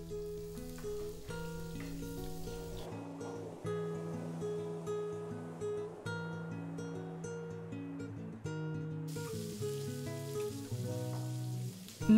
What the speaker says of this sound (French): Faites cuire les légumes dans la poêle avec une gousse d'ail.